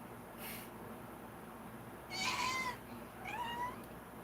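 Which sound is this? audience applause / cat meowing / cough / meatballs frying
cat meowing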